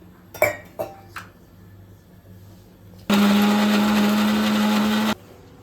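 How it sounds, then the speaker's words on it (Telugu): Red chilli, onion, garlic and salt are ground in a blender. A loud, even whirring burst lasts about two seconds, after a few brief knocks and a cough-like sound. "ఎర్రకారం ఉల్లిగడ్డ ఎల్లిగడ్డ కారం ఉప్పు అంతే ఇది వేసి పట్టుకుంటా"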